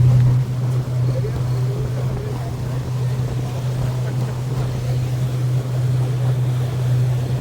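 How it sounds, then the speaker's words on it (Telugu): Pontoon boat cruising on the Yahara River toward Lake Monona, with a steady low motor drone under continuous rushing wind and water, fairly loud and unbroken throughout. "ఆ విండ్కి ప్లస్ వాటర్ సౌండ్కి చాలా బాగా అనిపిస్తుంది."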